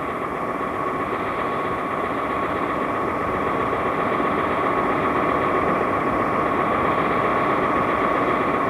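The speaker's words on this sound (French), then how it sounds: "Un bruit mécanique, oui, un bruit de moteur, carrément." A steady mechanical rumble like a running engine drones on without a break, loud and unchanging throughout.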